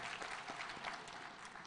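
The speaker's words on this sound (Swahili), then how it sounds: "Pigeni makofi jameni." A live crowd claps steadily throughout, dense applause at a political gathering in Kenya, even and continuous with no voices standing out.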